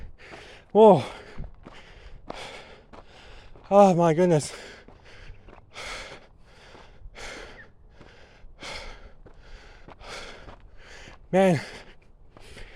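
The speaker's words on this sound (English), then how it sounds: "I'm literally out of breath right now" A man out of breath after walking up a hill, taking loud, heavy gasping breaths at intervals between quieter panting, with a few spoken words mixed in.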